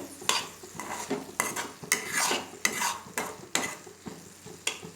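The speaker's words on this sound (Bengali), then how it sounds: "আমার মশলাটা এবং সবজিটা একটু কষানো হয়ে গিয়েছে" Spices and vegetables sautéing in a pan for a paneer dish for young children, with steady sizzling and repeated scraping and stirring of a utensil against the pan, close and fairly loud, no talking.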